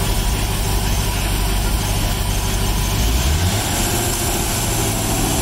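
Mercruiser 5.7 marine engine in a 1995 Crownline boat: a loud, steady low rumble of a running engine that dips and shifts in pitch midway before settling back into a continuous idle.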